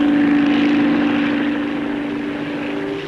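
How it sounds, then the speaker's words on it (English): A Bristol Type 173 twin-rotor tandem helicopter flies past during a 1950s Farnborough air display, giving a loud, steady rotor and engine drone with a sustained tone that slowly fades toward the end. "Helicopters showing their paces included the Bristol Type 173. This is a twin-rotor tandem engaged in flight research."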